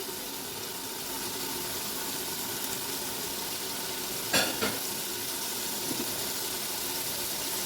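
Mutton fries in a pan with ginger paste during bhunai, a steady close sizzle with a couple of brief louder scrapes or clatters midway, no voices.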